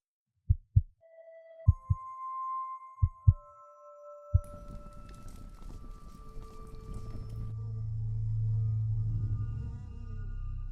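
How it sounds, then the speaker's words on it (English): A synthetic heartbeat from a horror adventure game: two groups of paired low thumps sound alone, followed by layered game ambience with a swelling low drone and tones. "So it's a sweet heartbeat."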